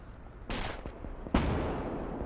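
German Pak 40 anti-tank gun firing shells in the WWII game Gates of Hell, two heavy booming shots about a second apart, the second sharper and closer, each ringing out over a steady battlefield rumble.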